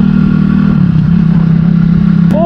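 A 2021 Italika 250Z motorcycle engine runs loudly at a steady idle-like rumble, close by, with a brief rise in pitch near the end as it revs.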